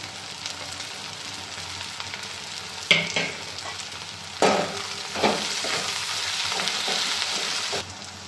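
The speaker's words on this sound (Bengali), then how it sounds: "পেঁয়াজটা আমার হাফ ভাজা হয়ে গেছে, এতে আমি একটু নুন দিচ্ছি।" Half-fried onions sizzle with salt in a pan for a dried-fish curry, a continuous frying crackle punctuated by several louder bursts of stirring and scraping.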